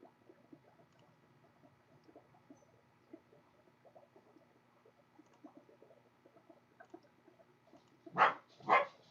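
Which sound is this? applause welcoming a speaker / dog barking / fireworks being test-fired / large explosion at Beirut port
dog barking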